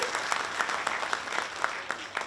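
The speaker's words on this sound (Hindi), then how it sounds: "तालियों की गड़गड़ाहट से इनका स्वागत हो" An audience at a Mithila and Maithili cultural program claps to welcome a guest, the clapping fairly loud and dense with individual claps standing out through a low crowd murmur.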